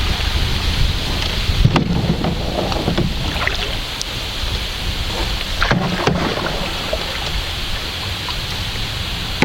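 Strong wind buffets the microphone during a canoe trip on the River Wensum, a steady roaring gust with occasional paddle knocks and sharp water splashes, no speech.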